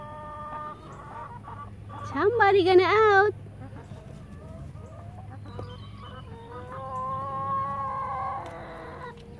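Chickens clucking and squawking as a new flock meets an older group, with one loud burst of excited cackling in the middle and softer clucks later, beneath a steady low hum and someone speaking.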